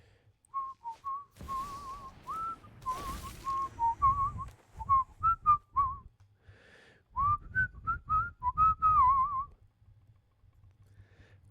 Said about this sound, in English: Just whistling on stream.